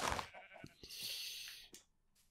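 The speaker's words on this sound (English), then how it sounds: "oh, black sheep" A sheep bleats in the video game Minecraft, giving a short call, then a longer wavering bleat and a faint final one, close and clear over a quiet background.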